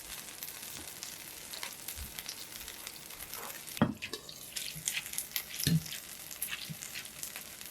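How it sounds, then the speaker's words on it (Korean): Mashed tofu stir-fried over medium-high heat with onion, a soft, even sizzle broken by a few louder scrapes and knocks of a utensil in the pan. "두부의 수분이 없어지도록 중불 이상에서 볶아주시고"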